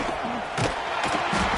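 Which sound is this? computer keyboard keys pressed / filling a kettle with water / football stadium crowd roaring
football stadium crowd roaring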